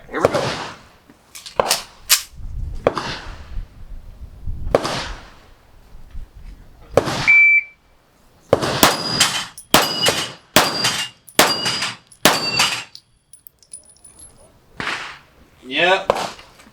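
A TISAS PX-9 Carry pistol fires from low ready at an outdoor range, sharp loud shots with ringing steel-target clangs in quick strings, alone and between bursts of talk.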